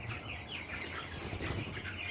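Chickens on a small poultry farm of about 350 birds, some recently sick, cluck and call in a steady, busy chorus close by, with no talking over them.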